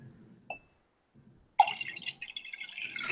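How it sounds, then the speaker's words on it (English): Wine glugs and trickles into a glass after a short pause, the liquid splashing close and bright for a couple of seconds, preceded by a faint voice and a light clink. "I really hope for the audio portion that you could hear me pour my second glass of wine"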